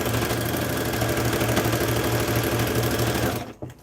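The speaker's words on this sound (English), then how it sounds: "Needle down. Straight pin out of the way. Yep, we're sewing fine." A sewing machine stitches through layers of denim and flannel in a steady, fast, even mechanical chatter that runs loud and close before stopping abruptly near the end.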